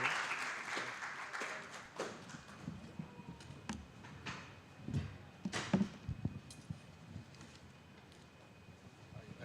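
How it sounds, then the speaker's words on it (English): Audience applause for a guest invited to the podium at a talk, a spread of clapping from a crowd that stays steady and fairly soft, with a few sharper claps standing out, no voices over it. "I ask an applause from the audience"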